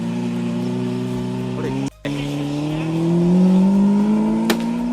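A Lamborghini engine revs loudly on a street, a sustained rising drone with a brief cutoff and a swelling roar, as a voice speaks briefly over it.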